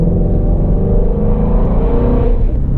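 A Shelby GT350 Mustang engine pulls hard under steady throttle, a loud, continuous low rumble that stays even and close throughout, with no voices over it.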